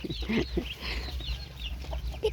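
Several soft chicken clucks sound close by in short bursts over a low background rumble.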